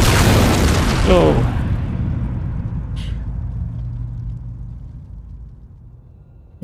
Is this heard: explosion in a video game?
yes